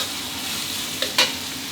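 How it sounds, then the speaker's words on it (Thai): Chicken and holy basil get stir-fried in a hot pan, a steady sizzle with a couple of brief scraping stirs near the end. "ผัดคลุกเคล้าให้เข้ากันดีเลย"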